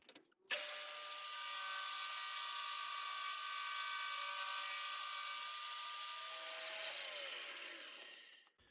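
A milling machine cutting one face of a hexagon, a steady loud whining, grinding tone that holds for several seconds and then shifts pitch and fades as the cut ends, close and with no voices.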